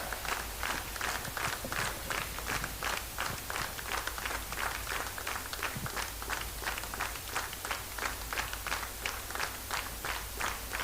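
A crowd claps hard for Team ASKO at the grand finale of a dance competition in Seppa, Arunachal Pradesh, a dense, steady roar of hand claps that holds evenly throughout over a low background hum.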